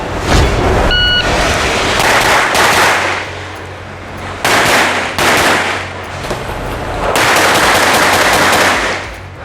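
Guns are fired at a target on a shooting range: loud, close reports in rapid bursts of repeated shots, separated by short pauses.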